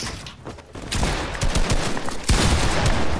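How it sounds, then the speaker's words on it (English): Rapid bursts of gunfire from a Fortnite match crackle in dense volleys, loud and close, with a sharp louder shot midway and no talk over them. "Apparently they're just shooting through my wall randomly."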